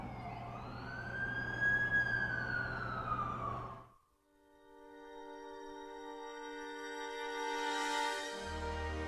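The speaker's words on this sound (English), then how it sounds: "That's the ambulance I called." A wailing ambulance siren sweeps up and down loudly, then cuts off and is followed by a steadier, tonal siren with a low engine rumble underneath.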